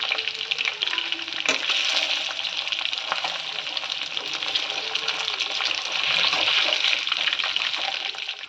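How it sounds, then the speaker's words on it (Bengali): Chicken pieces for restaurant-style chili chicken are being fried a second time in hot oil, giving a continuous, close crackling sizzle with occasional stirring clatter. "চিকেনগুলোকে আরেকবার করে ভেজে নিচ্ছি"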